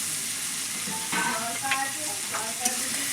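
Prawns in spiced masala for a prawn malai curry, stirred in a hot pan: a soft continuous sizzle with a few brief scraping stir strokes, close and fairly quiet, no speech.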